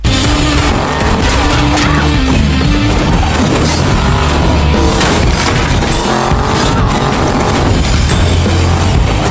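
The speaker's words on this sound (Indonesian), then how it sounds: "dengan cepat Annie segera memundurkan mobil" Car reversing fast in a film scene, loud continuous tire squeal and engine roar with skidding throughout, a hectic chase-like mix with no speech.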